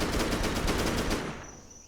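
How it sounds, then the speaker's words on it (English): Rapid automatic machine gun fire from the video game Primal Carnage Extinction, a loud, fast burst of evenly spaced shots lasting over a second before cutting off into a fading echo. "let's listen to the machine gun sound of this"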